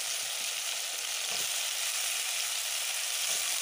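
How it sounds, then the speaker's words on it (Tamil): Eggplant sautés with tomato in a pan, giving a steady dense sizzle and crackle throughout, close and even with faint stirring underneath and no voices. "கத்திரிக்காய் சேர்த்து நல்லா வதக்கிக்கலாம்"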